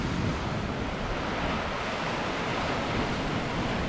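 Sea water churning into a coastal cave on the Angus coast of Scotland at rising tide, a loud, continuous rushing roar of surf with wind noise buffeting the microphone.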